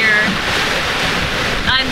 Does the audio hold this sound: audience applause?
no